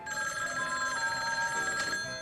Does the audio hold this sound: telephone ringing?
yes